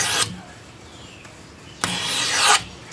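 Two rasping strokes of a knife drawn across the stone of a Work Sharp guided field sharpener, one short then a longer scrape, close by with quiet between them.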